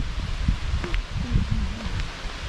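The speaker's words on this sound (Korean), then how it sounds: "이 바람 소리 봐. 바람 소리." Wind gusts and rustles loudly against the microphone with a constant roaring whoosh, no voices heard.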